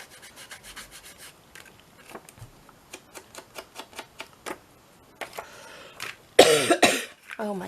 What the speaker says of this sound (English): I do apologise for my coughing